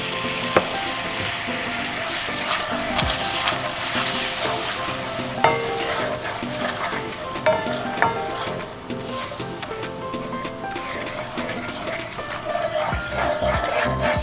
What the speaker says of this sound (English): the next thing I'm going to add is some soy sauce